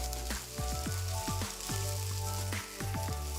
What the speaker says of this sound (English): So after adding the ginger garlic paste, cook for about 2 to 3 minutes